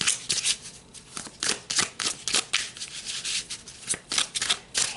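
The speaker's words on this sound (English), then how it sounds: "let's pull some more cards" Cards are shuffled and pulled from a deck up close, giving a steady run of papery riffles and soft flicking rubs with no talking.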